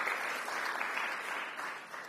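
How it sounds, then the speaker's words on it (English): Steady, dense applause from an audience at a sports commission kick-off event, filling the whole stretch at an even level without pause. "Let's give her a round of applause"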